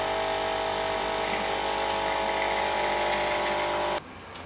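A Cecotec Matic-ccino 7000 coffee machine running its descaling cycle gives a loud, steady mechanical buzz and whir up close. The noise cuts off abruptly near the end, leaving a quieter hum.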